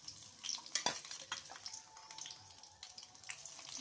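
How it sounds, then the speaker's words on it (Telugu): Green chillies fry in hot oil for tomato chutney with a soft, quiet sizzle, broken by a few clinks and stirring sounds from the pan. "పచ్చిమిరపకాయలు అయితే ఫ్రై అవుతున్నాయి"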